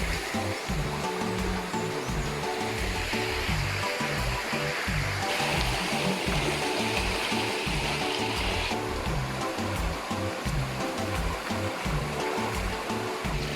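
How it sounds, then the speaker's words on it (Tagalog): A river in Mambatangan, Bukidnon rushes and burbles continuously, a steady close wash of turbulent water with no voices. "Maririnig niyo yung ilog."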